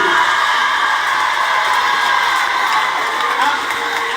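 Outdoor Christmas celebration crowd in Duékoué cheering and applauding, a dense continuous roar of clapping and shouts, steady and fairly loud throughout.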